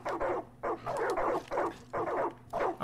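In Far Cry 5, a pack of dogs barks and whines in quick, closely spaced bursts, roughly seven loud yelps in a row over low background rumble.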